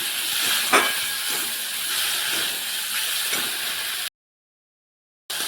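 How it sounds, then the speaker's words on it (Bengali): Chopped tomatoes fry in a pan for an egg and potato curry, giving a steady broadband hiss and sizzle that runs loud for about four seconds, then cuts to silence before briefly returning. "কেটে রাখা টমেটোগুলো দিয়ে দিচ্ছি। টমেটোগুলো ভালোভাবে ভেজে নেব যতক্ষণ না টমেটোর কাঁচা গন্ধটা যাচ্ছে।"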